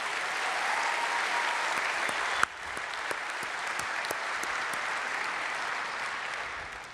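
An audience at a Long Beach State of the City address applauds the Justice Lab team and city departments in a steady, fairly distant wash of clapping, with a few sharper individual claps standing out and one brief bump partway through.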